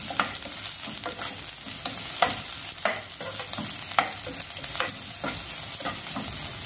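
Onions sautéing in a pan for a tofu and kangkong stir-fry crackle with steady frying sizzle, punctuated by repeated scraping stir strokes at a loose, regular rhythm; no voices.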